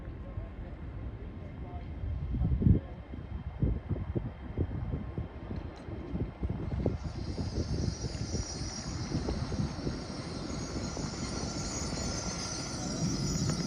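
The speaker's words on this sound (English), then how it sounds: "now approaching is a LNER Zoomer going from London King's Cross" An LNER train from London King's Cross rolls into Peterborough station on the East Coast Main Line: a steady, heavy rumble with rattling wheel and rail noise that builds and holds throughout, with a windy hiss.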